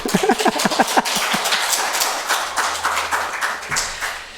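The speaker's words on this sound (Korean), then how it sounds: "잘했으면 박수 한번" A church congregation at a Sunday worship service claps, first in a few rhythmic, distinct strokes, then in a fuller burst of applause that carries on steadily at moderate loudness.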